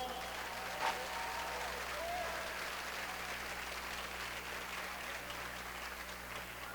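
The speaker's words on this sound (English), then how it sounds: "Let's give them another great round of applause." Steady applause from a large crowd at a high school commencement ceremony fills the space, a dense, continuous patter of many hands clapping with no pause throughout.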